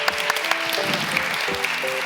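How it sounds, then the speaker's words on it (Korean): A room full of people claps continuously, a dense patter of hand claps, while soft musical tones play faintly underneath. "다시 한번 환영의 박수 부탁드리겠습니다"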